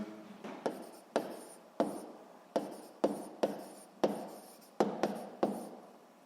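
Pen strokes scratch across paper at close range in short repeated bursts, each scribble starting sharply and fading, about a dozen in a row with short pauses between them.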